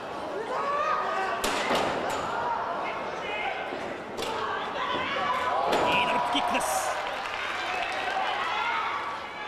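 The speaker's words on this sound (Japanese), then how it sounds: "いいドロップキックです。" A wrestler's dropkick landing in a wrestling match: sharp slams and thuds hit the mat a few times amid crowd noise and applause, with an announcer talking over the action.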